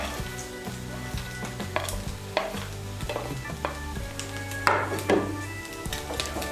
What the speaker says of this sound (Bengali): পনির আর কাজু কিশমিশগুলোকে ভালো করে ভাতের সঙ্গে মিশিয়ে নেব